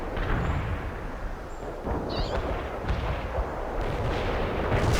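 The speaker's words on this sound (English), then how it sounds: "Coordinates received. Artillery firing." Artillery barrage in the World in Conflict video game, a dense rolling rumble of distant booms and blasts sustained for several seconds, with no voices over it.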